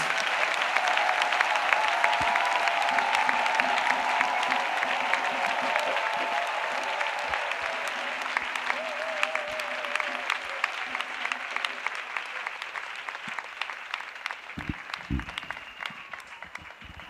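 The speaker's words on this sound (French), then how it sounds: "Acclamation à Jésus-Christ. Clap offering to Jesus." A church congregation at a prayer meeting claps in sustained, dense applause that stays loud, then thins and fades toward the end, with faint voices mixed in.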